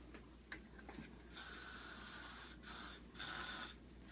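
A spray bottle mists water onto hair during flat-iron styling, giving three close, hissing bursts, one long and two shorter, after a few faint taps and clicks.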